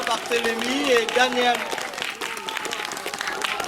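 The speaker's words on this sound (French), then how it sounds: "donne-le un grand applaudissement s'il vous plaît" An audience at a parish outdoor gathering claps warmly after a singer's performance, steady applause under a voice speaking over it, fading slightly toward the end.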